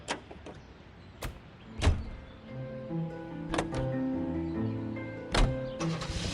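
In the L.A. Noire video game, a car door clunks and clicks, then an engine starts and settles into a low, steady hum as the car drives off, quiet and fairly distant.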